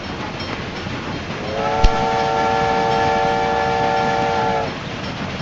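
A fully loaded train in the game Railway Empire rolls along with a steady rumble, while a loud, sustained horn sounds for about three seconds in the middle, close and clear with no talk.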